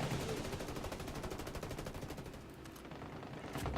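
Rapid automatic gunfire from a multiplayer shooter game, a fast steady volley of shots with some sharp cracks near the end, moderately quiet and continuous, no talk over it.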